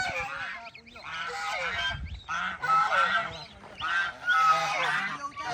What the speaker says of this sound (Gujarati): તો મિત્રો આ બતકું હે જો અત્યારે પુરાતા નથી